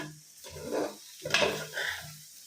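Pumpkin halwa stirred continuously in a pan as it fries: a few quiet scraping and clinking strokes of a spoon against the pan over a soft sizzle, close by, with no talking.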